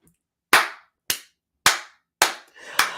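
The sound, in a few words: clapping hands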